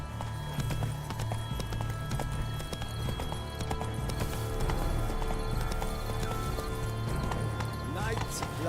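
Hoofbeats of a horse galloping in The Witcher 3 thud in a steady, continuous clip-clop rhythm over game music and ambience, with a brief whinny and voices talking throughout.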